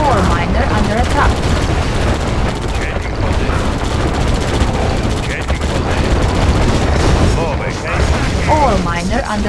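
Dense, loud gunfire and explosions in the Red Alert strategy game as units attack an ore miner, a continuous barrage of bursts and booms with game voices speaking through it.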